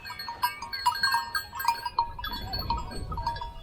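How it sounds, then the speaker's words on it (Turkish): Several sheep and goats bleat close by, overlapping calls repeating every half second or so over a low rumble of movement. "Arkadaşlar ben ilk defa koyun seviyorum. Keçi seviyorum."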